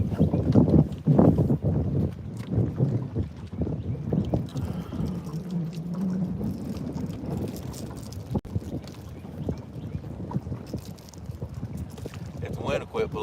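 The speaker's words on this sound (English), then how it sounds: "If the wind will quit blowing." Wind gusts buffet the microphone on a boat on the Tennessee River, a rumbling, uneven low roar that swells and eases throughout, with someone talking over it.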